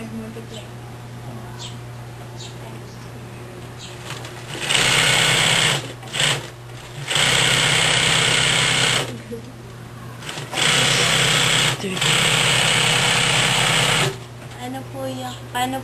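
Sewing machines whir in several loud bursts of a few seconds each, broken by short pauses, with a steady mechanical hum running beneath throughout.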